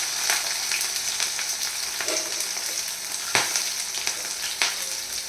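Onion and green chillies frying in hot oil with cumin, a dense, steady sizzle up close with occasional stirring clicks and scrapes.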